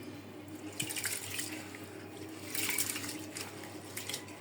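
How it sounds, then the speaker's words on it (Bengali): Rice being washed under running water for khichuri, a steady faucet-like splash and trickle with brief louder surges of sloshing, close and moderately quiet, with no talking. "এবার চাল ভালো করে ধুয়ে আমি রেডি করে ফেলি"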